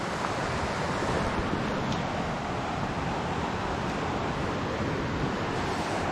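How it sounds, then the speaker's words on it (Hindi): River flowing at night in the Keran Valley along the Line of Control, a steady broadband rush of water that holds even throughout, loud and continuous with no voices. "ये नदी बह रही है।"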